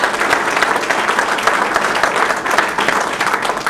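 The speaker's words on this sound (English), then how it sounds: "Give that a great round of applause." Crowd applause at a state economic development announcement in Petersburg, Virginia, a continuous, fairly loud burst of many hands clapping that stays even throughout.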